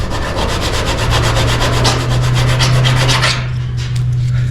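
Hard scraping over epoxy primer on sandblasted metal from a 1962 classic car, a fast rhythmic series of loud close strokes that stops abruptly near the end.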